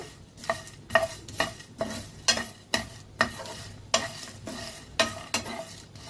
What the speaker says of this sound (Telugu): వీటిని చక్కగా దోరగా వేయించుకుంటూ